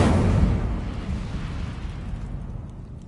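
A fiery Incendio spell effect goes off in a single loud, broadband burst that roars up at once and then fades into a long, rumbling decay, with no voices over it.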